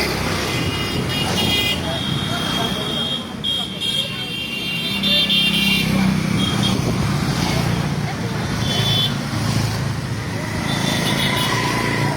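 A fast convoy of motorcycles roars past during a local election rally outside Durgapur, with repeated horn toots and engine noise over a busy roadway. People talk and shout throughout.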